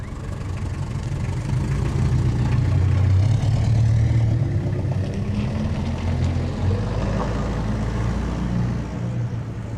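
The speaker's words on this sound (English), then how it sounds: "You can hear the engine of the car revving." A car engine runs steadily up close, a low rumbling drone that swells and eases slightly as the revs rise and fall, with no voices over it.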